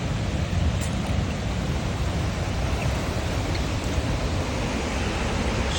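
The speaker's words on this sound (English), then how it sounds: "This should give us a good enough vantage point of the waterfall." A waterfall at DeSoto State Park roars as a steady, broad rush of falling water, constant and fairly loud throughout with no voices over it.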